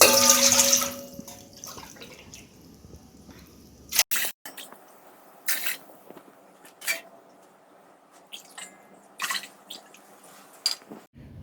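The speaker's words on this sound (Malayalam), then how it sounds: "അപ്പം ഇതിൽ 6 പാത്രം വെള്ളം ഒഴിക്കാം." Water poured into a pot of rice for Kerala-style beef dum biryani, a steady splashing rush for about four seconds, then scattered drips and wet squishes, fairly quiet with no talking.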